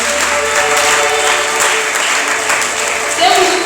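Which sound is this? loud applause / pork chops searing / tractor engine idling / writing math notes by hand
loud applause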